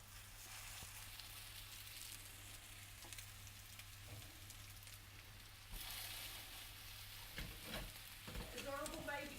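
Burger patties fry in hot oil in a pan, a soft, continuous sizzle and crackle with occasional clinks, faint and close, and a brief voice near the end.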